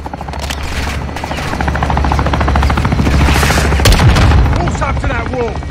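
Helicopter gunship strafing a building in Modern Warfare 2, with a steady rotor thump under loud rapid machine-gun bursts that swell toward the middle.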